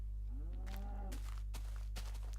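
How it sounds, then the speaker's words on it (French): Cattle moo in a video game: a single drawn-out bovine low over a constant electronic hum, followed by a few soft clicks and footstep-like taps. "On va aller se faire une ou deux vaches."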